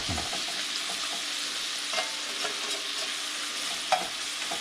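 Bacon sizzles and crackles steadily in a small cast iron skillet, a constant close frying hiss with an occasional sharper pop and light scrape.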